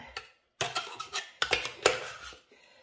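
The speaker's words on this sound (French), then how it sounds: "J'ai fait mes morceaux un peu de rhubarbe un petit peu trop gros. Je les coupe un petit peu." A knife chops rhubarb pieces smaller on a board, a run of sharp, close clicks and taps in irregular bursts with short pauses between them.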